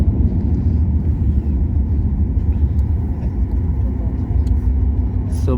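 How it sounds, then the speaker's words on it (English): Air India airliner applying reverse thrust on the landing rollout at Guwahati airport: a loud, steady low roar of engine and rumble from inside the cabin, sustained throughout with faint talk beneath. "It's a reversal thrust they applied."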